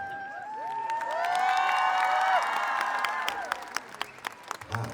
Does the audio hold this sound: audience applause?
yes